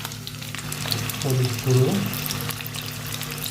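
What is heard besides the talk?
potatoes frying in hot oil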